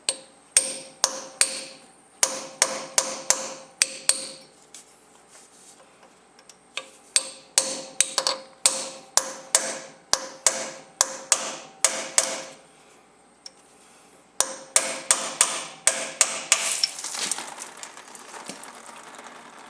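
A hammer taps a sharpened punch on a Kioti DK50SE tractor engine block, producing bursts of sharp, close metallic clicks in quick rhythmic runs separated by short pauses.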